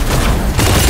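Gunfire in the mecha battle game Super Mecha Champions during a solo match: a loud, dense burst of shots and booming impacts that fills the moment, dipping briefly before another heavy volley.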